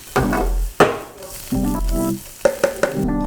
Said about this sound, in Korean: 이제 이 정도 양파가 볶아졌으면은